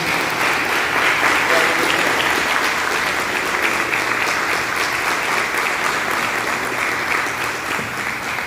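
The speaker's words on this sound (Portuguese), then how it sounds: "Palmas para Jesus" A church congregation applauds in sustained, dense clapping, loud and close, with a voice speaking faintly beneath it.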